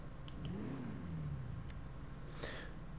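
An Albany VTR car in a tuning video game revs with a new oval carbon exhaust fitted, giving a faint rising and falling engine drone under low background noise, with no talking.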